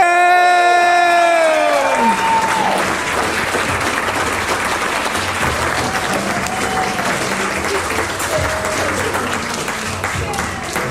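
Wedding guests applaud in a large, sustained wave of clapping that fills the room, following a speaker's voice at the start, with scattered cheers and voices rising through it.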